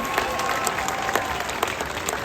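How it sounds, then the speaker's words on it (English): An audience at a sea lion and otter show at Hershey Park applauds steadily, a dense wash of many hands clapping with a few sharper claps standing out. "Would you mind giving him one more round of applause?"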